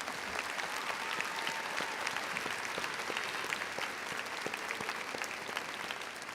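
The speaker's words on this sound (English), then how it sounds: "give a big round of applause to the mentors who've helped you get where you are" Steady, distant applause from a large university commencement crowd honoring graduates' mentors, a continuous wash of clapping with no break.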